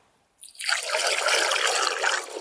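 Vermiwash draining from a vermicompost bed as it is collected, starting after a brief silence as a steady, close liquid trickle that runs on evenly to the end with no voices.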